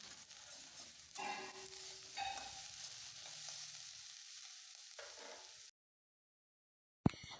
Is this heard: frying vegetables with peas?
yes